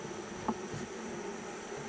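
Bees buzzing around a horizontal double-medium Langstroth hive, a steady low drone close by with a faint brief tap near the start, no voices.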